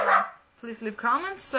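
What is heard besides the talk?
dog barking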